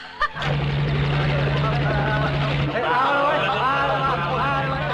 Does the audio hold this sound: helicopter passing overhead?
yes